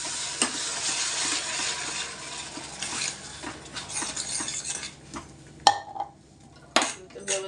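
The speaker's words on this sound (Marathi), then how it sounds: "व्यवस्थित आपण टोमॅटो शिजवून घेऊया, परतून घेऊया व्यवस्थित" Tomato paste sautés in a pan with a dense hiss while a spoon stirs and scrapes through it, ending in a couple of sharp clanks against the metal, close and clear.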